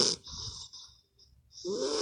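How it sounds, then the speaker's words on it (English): A dog snores close by, two loud rasping breaths separated by a short quiet pause. "If you hear snoring, that is my dog."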